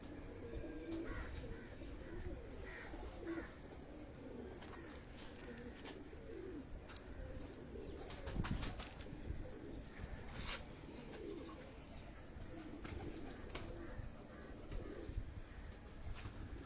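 Pigeons at a Karachi breeder's loft coo softly and repeatedly in the background, low rolling calls mixed with faint clicks and rustling throughout a quiet stretch.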